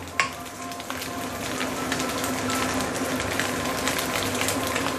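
Salted egg yolk bubbles and sizzles steadily in a pan as prawns fry, with the occasional scrape of stirring. The close, even crackle holds a constant level and has no speech over it.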